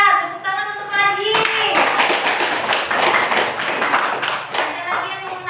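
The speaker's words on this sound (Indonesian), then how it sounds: "Tepuk tangan untuk Raji." A school class bursts into loud applause, many hands clapping in a dense, sustained patter after a brief voice at the start, with a few voices mixed in.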